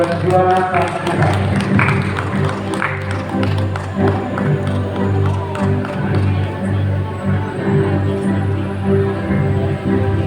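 At a high school graduation ceremony, a crowd claps and cheers for the third-place graduate, a dense, steady applause that stays loud throughout, with voices mixed in.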